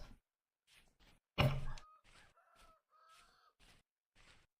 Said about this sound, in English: That is a rooster.